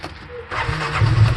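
A Mule utility vehicle engine cranks and catches, settling into a loud, close rumbling idle.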